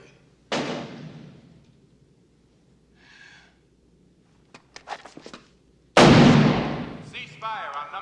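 Gunshots from the 1987 film Lethal Weapon, fired at an indoor police shooting range: two loud, sharply decaying shots several seconds apart, with a few fainter clicks and a breath between them.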